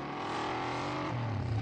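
A motorcycle in a Doraemon cartoon roars past with a loud, steady engine drone that swells slightly toward the end of the brief burst.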